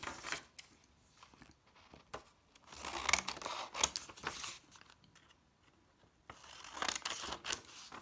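Scissors cut through striped blouse fabric in several quiet, separate runs of crisp snipping and crunching, spaced apart by near silence.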